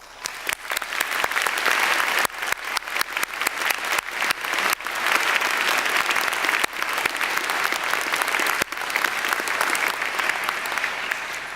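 Graduation ceremony audience applauds, a dense, loud, sustained wash of clapping from a large crowd that continues throughout without letup.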